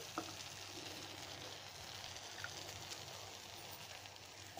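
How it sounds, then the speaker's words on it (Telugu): Water poured from a bowl onto sugar in a pot on the stove to start a sugar syrup, a steady close hiss and bubbling wash with faint stirring clinks, no voices. "షుగర్ తీసుకున్న బౌల్తో నేను వాటర్ పోసుకుంటానండి"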